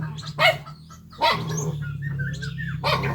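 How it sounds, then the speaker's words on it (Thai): Close dog barking in three separate bursts spread evenly apart, with thinner whining or squeaky tones filling the gaps between barks. "เขาเห่าเพื่อน"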